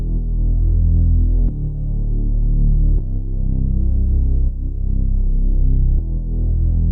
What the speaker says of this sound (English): a really low, round bass that kind of helps fill out that low end